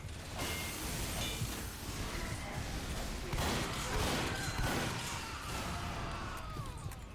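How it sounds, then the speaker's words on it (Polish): An explosion goes off in a Team Fortress 2 match, a broad rumbling blast with crackling debris over continuous game noise, fairly loud and sustained for several seconds. "Dobra, wybuch."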